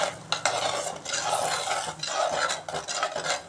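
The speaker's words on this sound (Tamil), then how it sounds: "இப்போ எல்லாம் மிக்ஸ் பண்ணிக்கலாம்." A spoon scrapes and stirs egg poriyal, Tamil-style scrambled eggs, in a pan, with rhythmic metallic scraping strokes and a light sizzle underneath, close and fairly loud with no talking.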